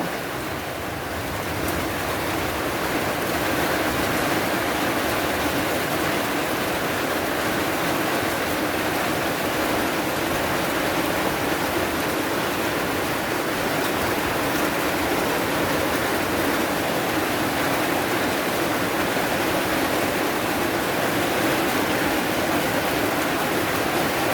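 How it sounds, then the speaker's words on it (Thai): Heavy rain pouring down during a storm, a loud dense steady hiss that stays even and unbroken from start to finish. "ายฝนโปรยปลายลงมา เจ้าหน้าก็ดีใจได้พี่น้องเลยฝนตกแนวนี้เนาะ"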